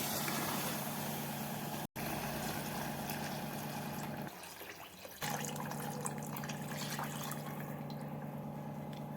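Water pours steadily onto rice in a pressure cooker for tomato bath, about two and a half glasses to one glass of rice, a continuous close rush with one brief break and a softer dip midway.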